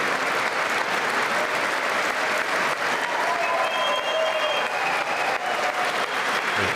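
An audience at the State of the Union claps steadily for several seconds, a dense, sustained wave of applause from a large crowd filling the hall without pause.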